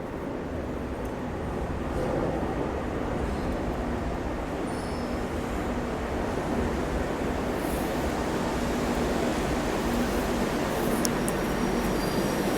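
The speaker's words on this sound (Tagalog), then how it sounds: "approaching na yung ating train. So, yan ang ating train." A commuter train approaching the station on a cold early morning makes a loud, steady rumble that swells after the first couple of seconds, with faint wheel squeals above it.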